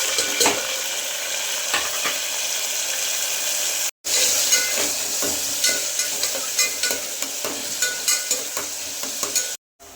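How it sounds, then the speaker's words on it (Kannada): Onions frying with curry leaves in hot oil for a pulao, a steady dense sizzle with frequent spoon-stirring scrapes, close and loud, broken by a brief silence near the fourth second and cut off just before the end. "ಅದು ಕ್ಲೀನಾಗಿ ಚಟಾಪಟ ಆದಮೇಲೆ ಅದಕ್ಕೆ ಈರುಳ್ಳಿನ ಹಾಕೋತಾ ಇದ್ದೀನಿ."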